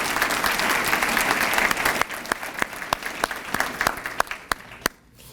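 An awards ceremony audience applauding recipient Sloan Bishop, a full burst of clapping that thins to scattered individual claps before fading out.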